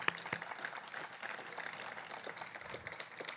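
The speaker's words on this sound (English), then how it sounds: "let's clap for that" Audience applause at the 2017 Champions for Equity Awards ceremony: a dense, steady wash of many hands clapping indoors, sustained at even loudness throughout with a few sharper individual claps standing out.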